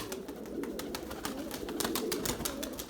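White Erzurum breeder pigeons cooing in low, rolling calls, repeated throughout at moderate distance over faint background clicks and rustle.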